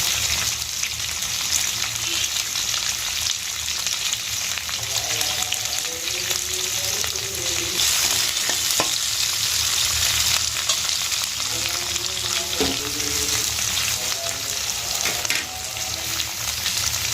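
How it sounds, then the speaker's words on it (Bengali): Capsicum frying with salt in a pan makes a continuous close, loud sizzle, with soft scraping stirs now and then and faint background voices. "হাফ চামচ লবণ দিয়ে দেবো, একটু তাড়াতাড়ি ভাজা হয়ে যাবে ক্যাপসিকামটা"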